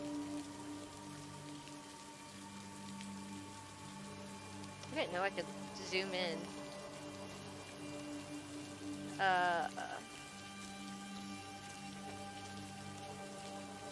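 Rain falls continuously in the Blair Witch video game as a quiet, even hiss under a faint hum. Short bursts of a man's speech break in twice over the rain.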